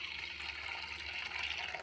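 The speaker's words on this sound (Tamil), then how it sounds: "ஸோ நம்ம தண்ணி ஊற்றி நல்லா கலக்கி" Water poured into readymade pani puri masala powder and stirred, a steady close splashing and trickling that runs without break, with no talk.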